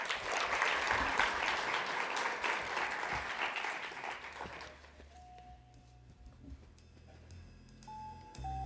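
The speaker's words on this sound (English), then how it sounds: "please allow me to give a round of applause" A conference crowd applauds to welcome a parliament speaker. The clapping is full for about four seconds, then fades out into a quieter room where a few electronic beeps and tones sound.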